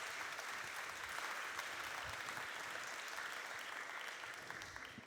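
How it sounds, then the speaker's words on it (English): An audience welcomes a speaker onto the stage at a talk about the NASA James Webb Space Telescope with continuous, even clapping from a large crowd, heard at a moderate distance and fading slightly at the end. "A round of applause, please."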